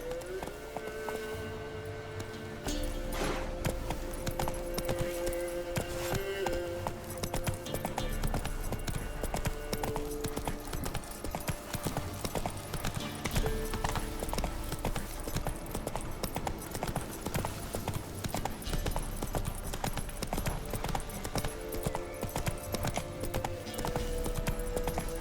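Roach the horse gallops in The Witcher 3 video game, a steady rapid clip-clop of hooves running continuously and loud for most of the stretch, with game music and ambience underneath.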